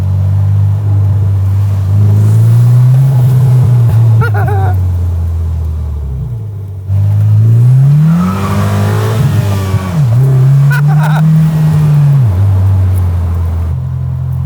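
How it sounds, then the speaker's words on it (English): A new Morgan Plus Four's loud engine drones and revs up and down close by, with brief tyre chirps breaking through as the car accelerates hard. "little chirp of the tyres there"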